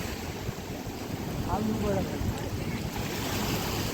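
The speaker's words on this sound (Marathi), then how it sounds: "हा बघा, हा समुद्र." Continuous wash of rough sea surf on the shore and wind rumbling close to the microphone, with a brief faint voice in the middle.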